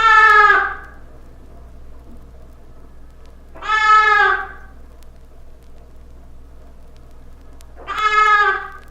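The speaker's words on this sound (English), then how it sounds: "A lamb separated from its mother gives high, prolonged distress calls." A lamb separated from its mother gives three high, prolonged bleating distress calls, spaced several seconds apart, close and loud over a quiet background.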